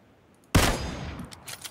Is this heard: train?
no